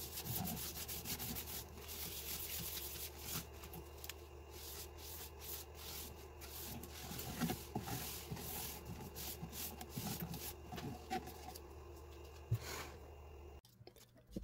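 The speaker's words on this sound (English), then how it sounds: "here I'm putting on the sanding sealer." Sanding sealer being applied to a large sissoo wood live-edge bowl spinning on a lathe, producing a soft continuous rubbing and scraping hiss over the low motor hum, faint and steady throughout.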